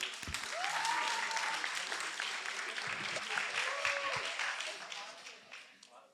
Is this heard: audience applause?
yes